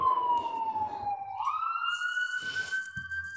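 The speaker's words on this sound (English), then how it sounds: "We just got the ambulances from AI now." A video game ambulance siren wails close and steady, its pitch sliding down and then back up, with a faint second tone underneath and a brief clatter near the end.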